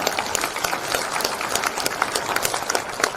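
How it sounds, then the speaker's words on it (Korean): Audience applause at a world representatives' convention keynote by the North Chungcheong governor: a steady, dense patter of clapping filling the hall for a few seconds, moderately loud with no talk over it. "공감하시면 박수 한번 쳐주시기 바랍니다"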